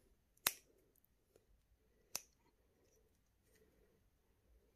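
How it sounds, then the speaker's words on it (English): Small cuticle or nail scissors trim excess resin from a druzy crystal pendant, giving two sharp, close snips a couple of seconds apart in an otherwise quiet room. "Little cuticle scissors or nail scissors are really good."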